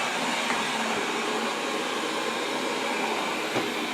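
A Wyze robot vacuum runs indoors with a steady, even whirring hiss of motor and suction, unbroken for the whole stretch with no voices.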